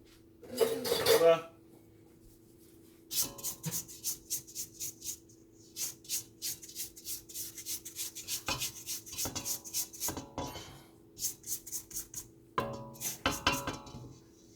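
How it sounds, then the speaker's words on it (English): A scraper works around a mixing bowl of strawberry cake batter, giving a burst of scraping and then many quick rubbing, clinking strokes in uneven runs, close and fairly loud, with pauses between passes. "we're going to scrape the bowl"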